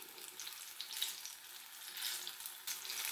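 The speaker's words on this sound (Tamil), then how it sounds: "நம்ம மீடியம் ஃப்ளேமில் வச்சு நல்லா கலர் வர அளவுக்கு பொரித்து எடுக்கணும்." Nendran banana fritters (Kerala pazham pori) deep frying in oil on a medium flame, giving a soft, continuous bubbling sizzle with small crackling pops, quiet and without voices.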